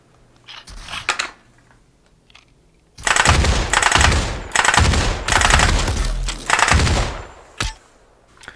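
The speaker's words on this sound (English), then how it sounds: "For this rifle, I've turned it down to just the burst setting, given 3 shots at a time" Rifle fire from a Meta Quest 3 VR game, with the weapon set to three-round burst, used with a haptic rifle stock; a few stray shots come first, then rapid, loud bursts follow in close succession.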